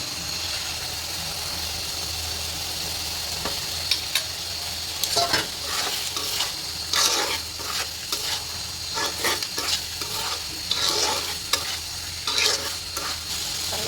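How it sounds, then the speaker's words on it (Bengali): Chicken pieces fry in a spiced onion-garlic masala with a little oil, a continuous low sizzle punctuated by many sharp, irregular scraping stirs of a spoon against the pan, close and steady throughout. "এখন মাংসটা কষাইতে আছি"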